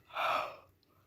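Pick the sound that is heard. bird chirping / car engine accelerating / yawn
yawn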